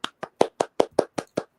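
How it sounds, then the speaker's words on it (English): Eight crisp hand claps in a steady, even rhythm, about five per second, close and alone, with no other sound between them. "round of applause"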